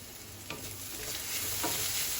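Soft stirring and scraping of ginger and garlic in a pan over a low, steady sizzle, with a couple of brief clinks against the pan.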